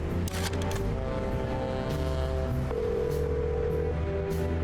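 A telephone number is dialed in the detective video game Chicken Police: a few quick clicks, then a run of steady electronic tones that shift pitch, heard clearly and alone.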